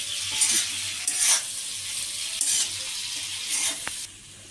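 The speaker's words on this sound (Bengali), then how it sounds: "এবার আমি টমেটো চারটেটা আর পেঁয়াজ দিয়ে দিলাম লঙ্কা চারটেও দিয়ে দিলাম এবার আমি নাড়তে থাকবো এটা" A spoon stirs tomatoes, onions and green chillies frying in a pan for chilli paneer, with a steady close sizzle and several bursts of scraping and hissing.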